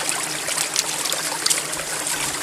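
Cold mountain stream water in the Polar Urals trickles and splashes steadily over stones close by, a continuous bright gurgling with small droplet splashes and no talk.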